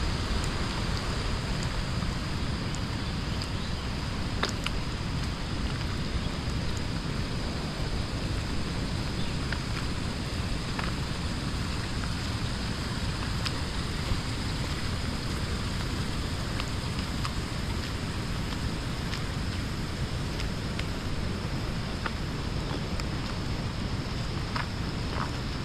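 Heavy rain pours steadily onto a flooded road, a dense, continuous roar of water with occasional sharper drop taps, constant in level and with no one speaking.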